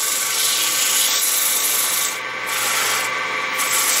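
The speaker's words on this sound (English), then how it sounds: "Get it all sanded off there." Sandpaper rubs against a punky wooden turning blank spinning on a lathe, a steady close abrasive hiss that dips briefly midway and then resumes.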